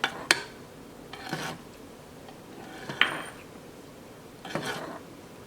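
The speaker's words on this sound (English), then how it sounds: "we're going to stop and we're just going to drop our egg, and we're just going to slowly start to continuously turn our egg" A utensil gently swirls water in a cooking pot to poach an egg, giving a few soft, quiet clinks and scrapes against the metal with pauses between them and no talking.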